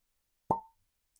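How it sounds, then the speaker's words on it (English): A cork pops out of a bottle of Penelope Havana bourbon, one short, close hollow plop in otherwise near silence. "very nice cork pop on that"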